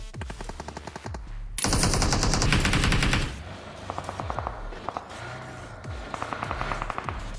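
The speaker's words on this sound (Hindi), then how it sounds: "अब आगे की तरफ से बड़ी देर से गोली चलने की आवाज आ रही थी" Gunfire in the mobile battle royale game BGMI: rapid automatic bursts, a long dense volley in the middle, then spaced shorter bursts of shots, loud and close.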